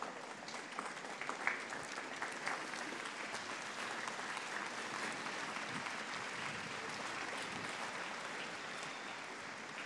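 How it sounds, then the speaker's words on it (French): Audience applause from a crowd at a religious gathering, steady clapping that holds for the whole stretch at moderate distance, with no voices over it. "C'est donc Marie et Jésus qu'il faut applaudir"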